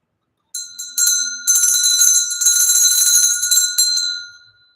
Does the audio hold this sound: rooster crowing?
no